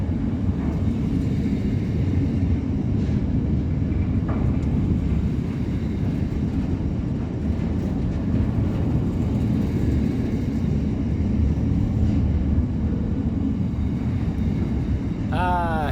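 A long freight train in Australia rolls past steadily, a continuous low rumble and rattle of wagons that stays loud throughout, with a brief horn-like tone at the very end.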